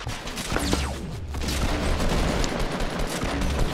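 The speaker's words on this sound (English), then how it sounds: "They're shooting each other because they think their teammates are shooting each other." Distant gunfire crackles in a Fortnite squads battle royale match, a continuous busy wash of shots and mechanical noise at moderate loudness, with no clear voices.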